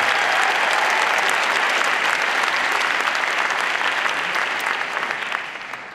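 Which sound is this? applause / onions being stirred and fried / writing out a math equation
applause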